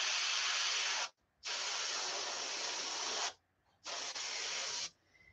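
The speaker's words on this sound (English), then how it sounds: "You might have to do a little spraying and drying without moving your stencil." Three bursts of spray paint hiss from a can or airbrush onto a peacock bass fishing lure through a stencil, each steady and close, the first two long and the last shorter, separated by brief quiet gaps.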